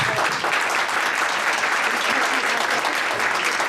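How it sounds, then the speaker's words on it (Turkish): Standing ovation at a chamber of commerce International Women's Day event in Malatya, a thick, even roar of clapping from a large crowd, loud and continuous throughout with no talk over it. "Bu denli büyük özveriyle ait tarafsız genç bir başkanımızı ben ayakta alkışlamak istiyorum"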